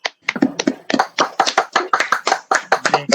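Audience clapping in an online worship gathering, a brisk run of individual hand claps, close and fairly loud, with no talking over them.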